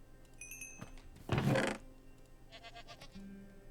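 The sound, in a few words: mountain goat bleating in a video game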